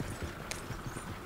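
Horse hooves clip-clopping in the video game Red Dead Redemption 2, a steady rhythmic run of soft muffled hoof thuds at moderate distance, with one brief brighter click partway through.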